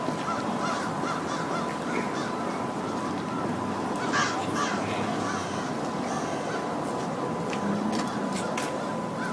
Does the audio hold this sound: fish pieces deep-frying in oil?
no